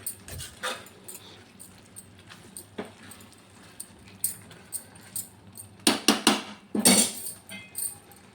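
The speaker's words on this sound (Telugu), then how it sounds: "కొంచెం మసాలా పౌడరు జల్లి మరొకసారి కర్రీని ఇలాగ కలుపుకొని" A curry being stirred in a cooking pan after a final sprinkle of masala powder, with scattered scraping and clinking of a spoon against metal, a few louder knocks near the end, fairly quiet and without talk.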